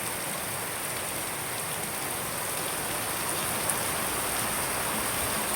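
A heavy downpour of rain in Camarines Sur, Philippines, a steady dense hiss of drops hitting surfaces, close and unbroken, with no talking.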